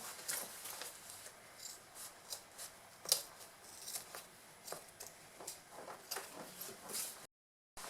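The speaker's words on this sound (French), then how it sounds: "je vais découper le surplus de tissu et de zip de chaque côté" Scissors snip repeatedly through excess fabric and zipper tape on a faux-leather convertible backpack, crisp close cuts in an irregular rhythm with short pauses between strokes, no voice over them.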